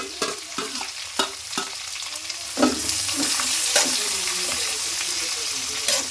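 Chopped onions sizzle and crackle loudly in hot oil in a pan for upma, with sharp scraping knocks of a spoon stirring at intervals.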